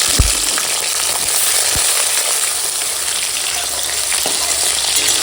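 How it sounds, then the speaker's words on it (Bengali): Okra pieces frying in hot oil, a loud continuous sizzle with steady crackle that stays even throughout, close up and alone, with a few low knocks near the start. "তেল গরম হয়ে গেছে ভেন্ডিগুলো হালকা করে ভেজে নেব"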